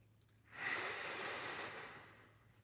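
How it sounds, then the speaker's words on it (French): A single slow, audible breath drawn in and let out during a calm meditation, a soft airy hiss lasting about two seconds, close and quiet against a faint low hum. "vous comptez vos respirations."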